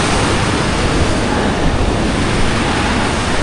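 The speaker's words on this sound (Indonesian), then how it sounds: "oh ada air terjun juga di sana teman-teman" A waterfall below a mountain bridge at Cangar roars as dense, steady broadband rushing water, loud and continuous with wind noise mixed in and no talk.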